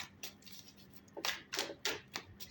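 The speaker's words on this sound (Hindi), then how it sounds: "इतनी शफल नहीं हो पा रहे कार्ड्स" Tarot cards being shuffled by hand, a quiet series of soft riffling flicks and taps in short uneven bursts, growing somewhat stronger toward the end, close and alone with no talking.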